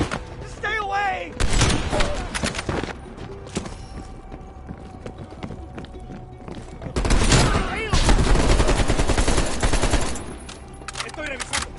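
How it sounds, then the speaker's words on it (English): Gunfire in the Call of Duty Cold War campaign: dense bursts of automatic shots come in two loud stretches, with clattering battle noise and shouting voices throughout. "Please, they're shooting at us!"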